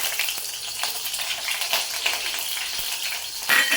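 Chopped green chillies dropped into hot oil, a dense bright crackling sizzle throughout, close and loud, swelling slightly at the end, with no talk.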